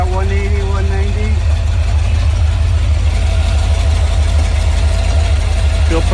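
A carbureted Rover 4.0 V8 idling on an engine stand, running loud and steady at low RPM with a deep continuous drone and a faint whine early on, close to the listener.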